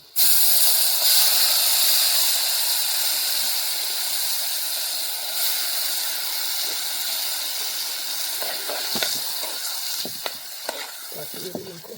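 Red chili and yogurt hit hot oil in a pan for Kathiyawadi-style dahi tikhari, a loud steady sizzle and hiss that slowly fades over several seconds, with a few faint clinks near the end.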